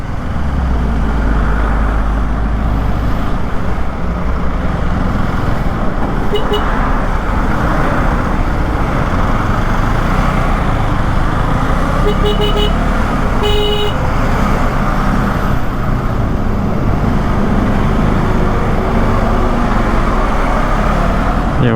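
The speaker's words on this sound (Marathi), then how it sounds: "सकाळी 3 वाजताची ही ट्रॅफिक आहे टुवर्ड्स घोडबंदर रोड" Road traffic heading toward Ghodbunder Road at 3 a.m., a loud, unbroken roar of passing cars and trucks with a few short horn toots around the middle.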